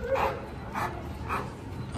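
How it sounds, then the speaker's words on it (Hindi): A Labrador gives three evenly spaced, muffled barks, close by but not very loud, against a steady background hum. "थोड़ा भौंकता है"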